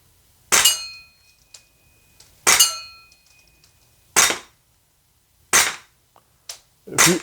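GHK Glock 17 Gen3 airsoft pistol fired four or five times at spaced intervals, each sharp, close gas-blowback crack with a metallic slide clack and ringing tail, no talking.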